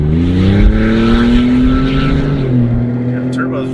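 A Hennessey HPE600-upgraded Lincoln Navigator with turbocharged engine accelerates, its loud, close engine tone rising in pitch, then easing off near the end, heard from inside the vehicle.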